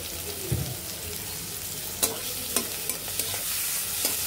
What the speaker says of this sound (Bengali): পেঁয়াজগুলো বেশি লাল করে ভাজবো না, হালকা ভাজা হলেই আমরা এখন চিংড়ি মাছগুলো দিয়ে দিব।